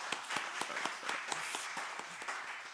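A church congregation at a Sunday morning service in Busan gives a short round of welcoming applause, a moderate patter with distinct individual claps in a quick, uneven rhythm, steady throughout and fairly subdued.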